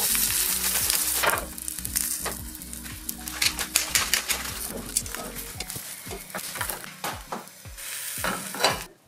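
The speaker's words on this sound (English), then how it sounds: "we used the same pan to blister some shishito peppers" Shishito peppers blistering in a frying pan just used to cook perch, with a steady close sizzle and crackle and sharp pops and spatters scattered throughout.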